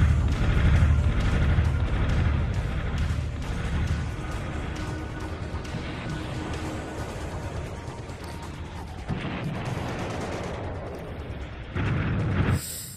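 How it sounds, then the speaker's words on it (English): Rocket explosions in the Army Men video game, a dense, continuous barrage of loud booms and blasts rumbling steadily throughout, with a fresh burst near the end. "It's far too many explosions for my liking."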